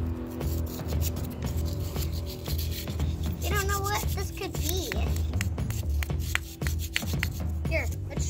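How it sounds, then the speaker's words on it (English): A tool scrapes and chisels at a plaster Infinity Gauntlet dig-it treasure block in steady, rasping bursts close by, while people talk over it. "now you gotta chisel away at it carefully"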